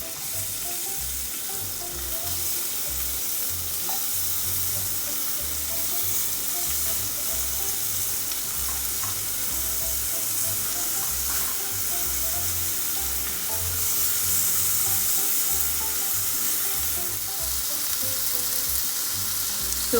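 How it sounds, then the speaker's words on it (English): Baby corn roasts in a pan of butter and oil with masala, giving a steady, even sizzle and crackle that carries on without a break, close by and with no talk. "So we are roasting the baby corn."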